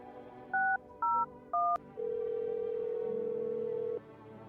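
Phone dialing in the video game No, I'm Not A Human: three short clean two-tone keypad beeps, then a long steady ringback tone lasting about two seconds, clear and close.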